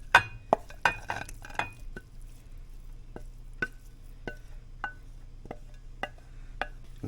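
A spoon stirring canned diced tomatoes and their juice into a pot of squirrel jambalaya: irregular metallic scrapes and clinks against the pot over a soft, steady background hiss.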